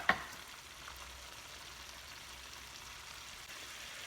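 Puerto Rican sofrito simmers down in a pan with a soft, steady frying hiss, preceded by a brief sharp clink at the start.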